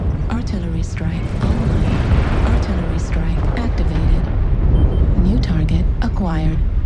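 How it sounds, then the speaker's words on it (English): Artillery strike explosions in the video game MechWarrior Online rumble as a dense, rolling barrage under continuous mech engine noise, while synthetic voice callouts and whistling tones cut in over the din. "Artillery strike."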